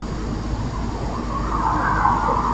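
A vehicle passes at a distance, its road noise swelling gradually and peaking near the end over a constant low rumble.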